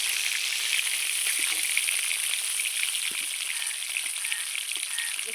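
Mirka fish frying in hot oil: a dense, steady sizzle and crackle fills the whole stretch, close and fairly loud, with no voices.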